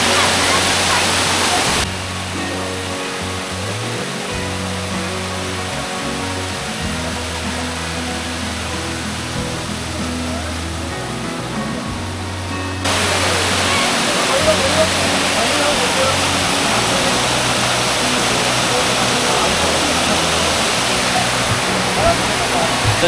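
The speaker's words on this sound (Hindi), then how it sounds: "और देखिए, इतना खूबसूरत ये झरना है।" A waterfall in the forest near Bee Fall in Pachmarhi gives a steady, loud rushing roar. A voice talks over it in the middle stretch, where the water sound dips.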